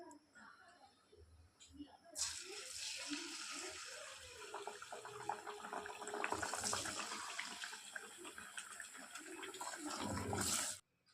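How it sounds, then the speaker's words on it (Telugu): Rice pindi chekkalu drop into boiling oil and set off a sudden loud, rushing hiss that keeps bubbling steadily and close, while someone talks over it. "ఇప్పుడు ఆయిల్ మరిగే దాంట్లో మనం ఇప్పుడు ఇవన్నీ ఈ ఆయిల్లో వేసుకోవాలి"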